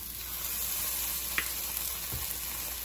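Onions and minced ginger frying in a pan for a Thai coconut chicken curry, a steady soft sizzle throughout with a brief stir or clink partway through.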